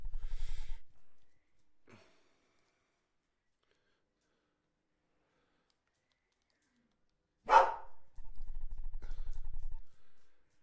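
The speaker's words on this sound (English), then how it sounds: "And excuse my dog." A dog indoors lets out a short burst of sound at the start, a faint one a moment later, then a loud, sharp bark after a long quiet stretch, followed by softer rhythmic huffing sounds.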